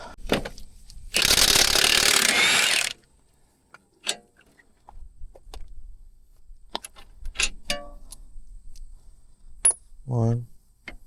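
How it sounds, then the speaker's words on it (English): Ratchet loosening strut bolts on a Toyota Corolla during a wheel bearing job, a long loud burst of clicking followed by scattered metallic clinks, taps and a short squeak. "Now we take these"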